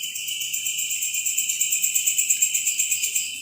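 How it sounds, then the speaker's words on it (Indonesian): Crickets chirp loudly inside an abandoned office building, a dense, steady high-pitched trill pulsing in quick regular beats and filling the room close by, with no talk over it. "ini suara jangkriknya kenceng banget cok"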